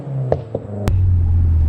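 Two sharp exhaust pops and a crack from a 2015+ Subaru WRX, followed by a loud, steady engine rumble close by.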